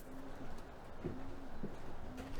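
Racing pigeons coo softly in a loft in Manchester, low repeated cooing phrases under a steady background hum, with no talk.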